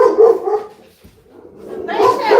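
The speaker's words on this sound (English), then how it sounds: "Now my dogs are barking up a storm over there because the mailman just started coming through." Dogs at home barking at a mailman arriving, a loud burst of barks and yips near the start and again at the end, with a brief lull between.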